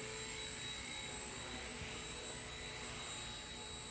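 A Walkera Genius CP six-channel flybarless RC helicopter hovering nearby, giving a steady high-pitched electric motor whine with a constant buzzing rotor drone and no pauses.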